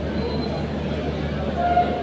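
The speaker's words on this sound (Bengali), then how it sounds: "আমাদের ট্রেন অলরেডি প্ল্যাটফর্মে চলে এসেছে। শিয়ালদা স্টেশনে 11 নম্বর প্ল্যাটফর্মে" The Gour Express stands at platform 11 of Sealdah station, giving a steady, close rumble of train and platform noise that holds evenly throughout the short stretch, with a faint tonal hum near the end.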